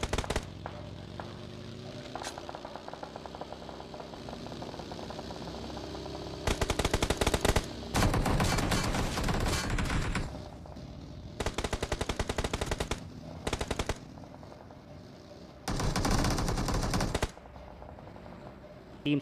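Rapid automatic gunfire from a battle royale video game match rattles in several loud bursts, long sustained volleys alternating with quieter gaps, with no talking.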